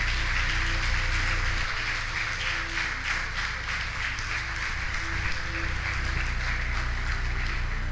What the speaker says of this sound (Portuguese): Então aplauda o Senhor e glorifique o seu nome por isso.